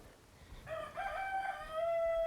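One rooster crow rings out in a Fijian village, a fairly close call that starts after a brief pause and holds steady over low ambient noise.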